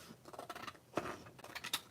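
Scissors cutting paper, close and quiet, with a series of soft snipping and rustling strokes in an uneven rhythm.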